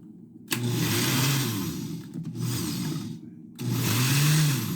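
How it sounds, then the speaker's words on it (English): A blender whirs loudly while puréeing taramosalata with fish roe, running in two long bursts separated by a brief pause, close and steady with no talking. "Guys, remember, don't ever put your fingers in the blender."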